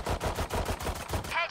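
Rapid bursts of gunfire from the Valorant video game, about eight evenly spaced loud shots in quick rhythm, ending with a brief higher ringing tone.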